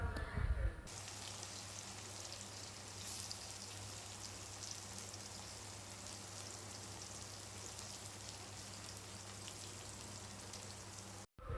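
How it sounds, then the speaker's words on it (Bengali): Chopped onions fry steadily in a hot pan for Bengali home cooking, giving a dense, even crackling sizzle like light rain that holds for about ten seconds before cutting off. "পেঁয়াজগুলোকে ভালো করে নেড়ে চেড়ে কিছুক্ষণ ভাজতে দিতে হবে"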